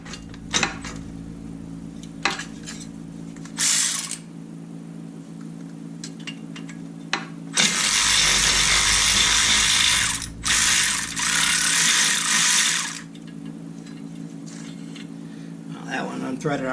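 A ratchet loosens exhaust flange bolts on a Can-Am Maverick turbo, with short clicking bursts early and later long loud rapid ratcheting runs, close up, with someone talking now and then.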